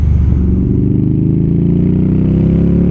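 The engine of an Indian Scout Bobber motorcycle thrums loudly and steadily while riding, a deep pulsing rumble at close range with no voices.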